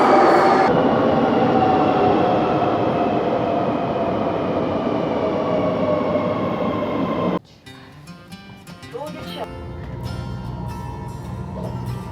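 A steady rumbling roar of a moving train from Helsingborg, Sweden, toward Denmark fills the cabin, then abruptly drops to a quieter rattling hum with scattered clicks.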